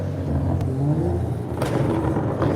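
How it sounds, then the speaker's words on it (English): A car with a loud engine passes by at night, a steady rumbling drone that swells and fades as it goes by, with no talk over it. "His loud engine, one dim light."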